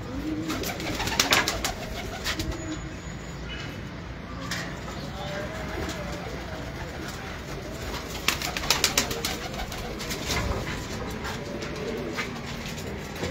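Home loft pigeons coo steadily and close by, with soft repeated calls over a continuous backdrop of flock murmur and light rustling.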